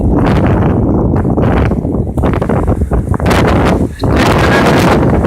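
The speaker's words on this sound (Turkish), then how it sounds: "Çok rüzgar var." Strong wind at a boat departure point in Dalyan, Turkey, roars into the microphone almost without pause, loud buffeting gusts rumbling and dipping briefly before surging again.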